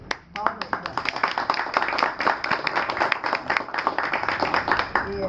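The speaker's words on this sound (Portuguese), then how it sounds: "Então, palmas para" An audience applauds in a hall, with many hands clapping in quick, uneven bursts that begin abruptly and stay loud and dense to the end.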